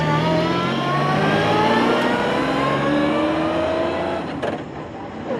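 A car engine revs hard under load, its intake roaring just behind the cabin headrests, with rising harmonic sweeps, loud and close from inside the car and continuous throughout.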